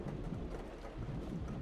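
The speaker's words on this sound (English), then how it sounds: "This rain is gonna keep us here all night." Rain falls in a video game set on a dinosaur island built in Unreal Engine, a soft, continuous wash of downpour with low rumbling beneath it and no speech.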